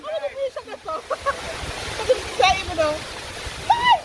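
Waterfall at Little Dunn's River in Ocho Rios, Jamaica, a steady rushing wash of falling water heard close by, running under excited voices and exclamations from people standing near the falls.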